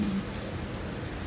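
Rain on a gusty, wet afternoon, blown about by wind, gives a soft, steady, distant hiss for just over a second with no voices.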